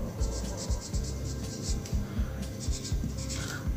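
Writing on a board or paper during a physics class on motion: steady scratchy strokes repeating in quick rhythmic bursts, close and continuous with no talking.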